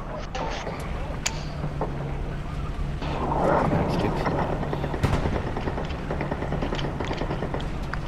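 Gunfire in the World War II shooter Hell Let Loose keeps cracking over a steady rumble of wind and distant battle. Sharp reports stand out near the middle of the stretch, and a player talks over the noise throughout.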